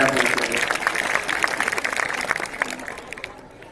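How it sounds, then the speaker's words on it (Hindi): Enthusiastic clapping from a crowd at a school award ceremony swells loudly, then gradually thins and fades out over a few seconds. "जोरदार तालियां हो जाए।"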